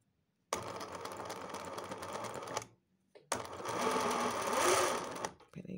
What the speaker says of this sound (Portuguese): Vou iniciar primeiro com a costura